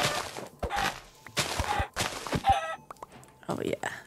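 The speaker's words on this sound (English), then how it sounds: "There's a chicken." A chicken in Minecraft clucks several times in short bursts amid game sounds, with a person talking over much of it.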